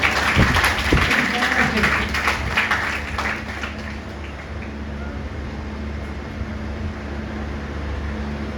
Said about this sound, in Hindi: जोर से ताली बजा दीजिए सर